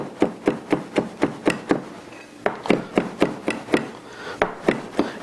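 A knife dices a fresh garlic clove on a cutting board, making steady, evenly spaced chopping taps close to the microphone with a short pause midway.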